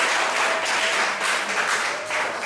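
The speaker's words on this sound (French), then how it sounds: "accompagnés d'une forte acclamation" Kindergarten children and guests at a school ceremony in Kpovié applaud and cheer, a loud, continuous roar of clapping and crowd voices that stays dense throughout.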